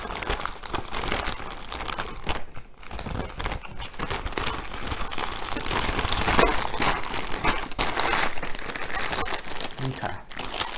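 A plastic bag crinkles and crumples steadily while being handled during the unboxing of a diamond art kit, with near, continuous rustling throughout.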